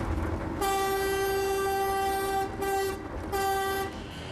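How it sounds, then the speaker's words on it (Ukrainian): A Carpathian tram's horn gives a loud, sustained blast with a brief break, then a second long blast, sounding close over a low rumbling background. "Можна я натисну на гудок?"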